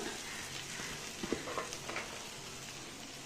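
Tomatoes sautéing in a pan with ginger and garlic for paneer butter masala give a steady, moderate sizzle and frying crackle, with a few soft stirring scrapes and no talk.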